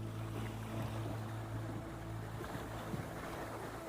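River waves on the Daugava rock an aluminium bass boat, giving a steady low wash and hum with soft splashes and light knocks against the hull under gusty wind, close but fairly quiet.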